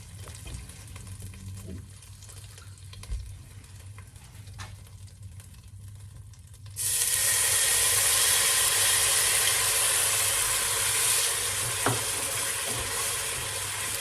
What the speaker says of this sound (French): Je cuis mon caramel pendant 2 à 3 minutes environ, en continuant à remuer bien sûr pour qu'il ne s'accroche pas en bas.